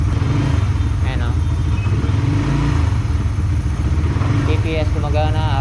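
A Raider 150 FI motorcycle engine fitted with a programmable Pitsbike ECU revs loudly up close, its rising engine note running throughout with someone talking over it.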